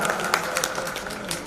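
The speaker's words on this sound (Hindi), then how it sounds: "जोरदार तालियों से इस्तकबाल करिए" Audience at a community conference hall applauds to welcome a speaker, a brief burst of scattered clapping heard fairly near, mixed with some crowd murmur.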